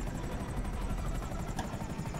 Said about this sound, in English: And a helicopter, I can't shoot this thing.